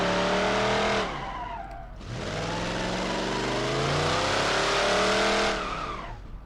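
A 1971 Plymouth Cuda Hemi in BeamNG.drive revs hard, its loud engine note sweeping up through gears, dipping briefly, then climbing again with squealing tires from burnouts before easing off.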